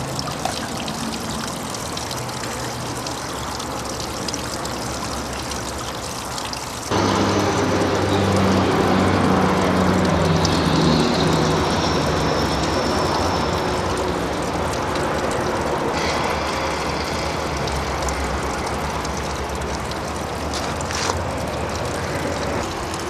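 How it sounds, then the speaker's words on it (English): A spiral gold wheel concentrating dredged Umpqua River material, with water trickling and pouring steadily as the wheel turns, the flow getting noticeably louder after several seconds and staying continuous and close. "this is our gold dropping out in the pan in the back of the gold wheel, spiral wheel."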